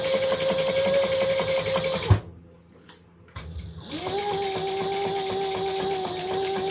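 A sewing machine running at an even hum while top stitching slippery fabric, stopping for about two seconds with a few small clunks, then restarting at a slightly different pitch, close up and with no talking.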